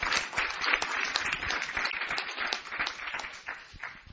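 Church congregation applauding during a bilingual sermon, a sustained, fairly loud patter of many hands clapping for several seconds without a pause.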